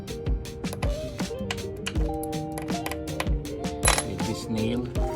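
A grinder-cut shaft with its head removed is knocked out of a cable wire clamp using a hammer and nail, giving a string of sharp, close metallic taps in an irregular rhythm over a clattery workshop background.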